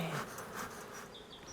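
Honeybees buzzing over capped royal queen cells in a hive, a soft continuous drone with overlapping wingbeat hums close by.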